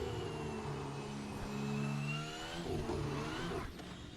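Bugatti race car engine from a Le Mans racing video game, revving hard on throttle with rising and falling harmonic whine, a brief dip, then climbing again before easing off near the end.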